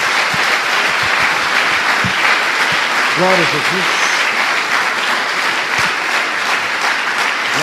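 A church congregation applauds steadily throughout, dense clapping filling the room while a preacher's voice speaks briefly over it.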